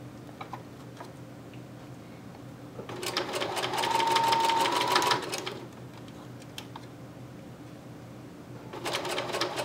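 A sewing machine stitching fabric doll slouch boots at a quarter-inch seam: a rapid mechanical whir and ticking in two bursts, the first lasting about two seconds, close by over a quiet room hum.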